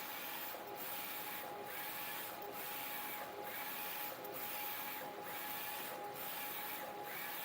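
Direct-to-film (DTF) printer running steadily, a constant mechanical whir with a rhythmic print-head pass repeating about every second, close and alone without speech.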